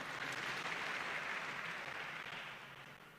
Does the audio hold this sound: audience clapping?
yes